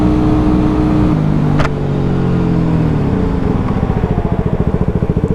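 A Yamaha WR250R dual-sport motorcycle riding a forest road, its engine droning steadily up close with shifting pitch, then settling into a pulsing, throbbing exhaust beat near the end, loud and continuous with no voices.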